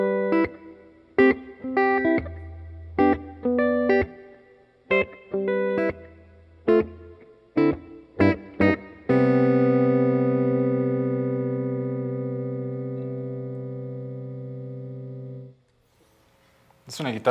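An EVH Striped Series electric guitar played through drive: a run of short, punchy distorted chords and stabs, then one big sustained chord ringing out for several seconds before it is cut off, loud and close.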